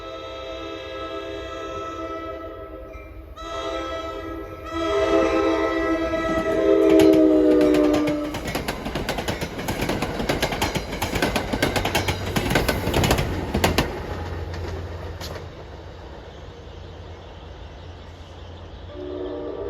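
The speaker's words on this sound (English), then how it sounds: "get a going away shot of train 1120 from Suffern to Hoboken" An NJ Transit train running from Suffern to Hoboken sounds its horn in several blasts, then passes nearby with a loud rumbling and clattering roar that fades away.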